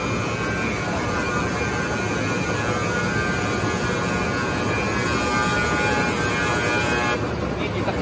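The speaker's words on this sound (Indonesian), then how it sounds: "Ini maaf berisik karena mesinnya mungkin lama." An old, noisy factory machine runs in a Korean factory, producing a loud, steady drone and hum with a constant hiss. The sound stays unbroken for the whole stretch, with possible faint voices buried beneath it.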